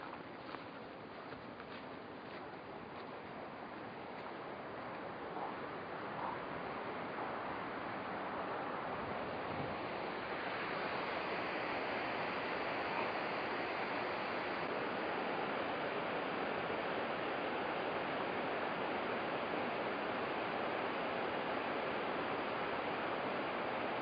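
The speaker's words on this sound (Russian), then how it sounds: "Перед нами водопад." Steady broadband rush of a waterfall on the Tosna River, constant and fairly loud, swelling slightly as it draws nearer; no voices.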